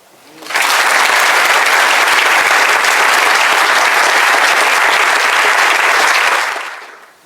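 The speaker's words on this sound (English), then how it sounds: "Keep clapping." A lecture audience bursts into loud, continuous applause that holds steady for about six seconds, then tapers off. The clapping is dense and full, heard from within the crowd.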